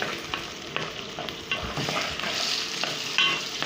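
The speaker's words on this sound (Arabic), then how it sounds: "بنقلب في الرز اهو، بس انا قلت لكم يا حبيبي هو بيطول شويه في التحمير، وبقلب اهو" Rice stirred in a frying pan, with a steady close sizzle under repeated scraping stir strokes, no voices.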